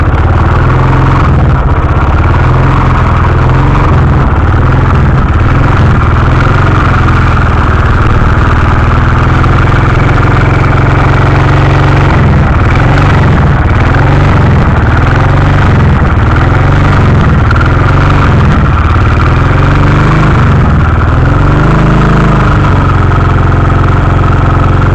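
A Royal Enfield 500 Bullet Electra X motorcycle ticks over at idle, a steady, loud, close-up single-cylinder thump that carries on throughout with no talking.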